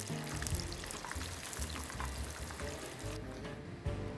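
Shrimp toast deep-frying in hot oil turned up to high heat, a steady crackling bubble with fine popping spatters, close and continuous.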